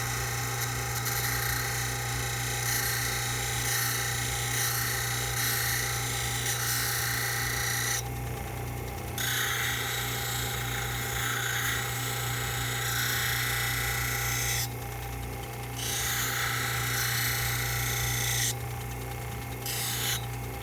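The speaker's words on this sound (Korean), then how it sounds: "거친 면에서 갈아야지만 좀 빨리 갈려요." A lens edging grinder steadily grinds an eyeglass lens to shape on a coarse wheel, with a continuous loud rasping drone and a steady machine hum that briefly change pitch a few times as the lens is worked.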